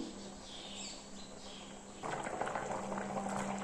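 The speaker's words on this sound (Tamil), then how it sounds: "ஓப்பன்லேயே கொதிக்கட்டும்." Steady bubbling and simmering of rice and water boiling in an open pot for mushroom biryani, growing louder and busier partway through, with no voices.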